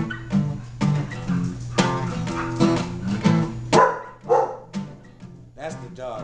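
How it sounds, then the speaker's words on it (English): A dog barks in short bursts from inside a room where two men are playing an acoustic rendition of a song, the yaps mixing with the instruments and voices. "That's the dog."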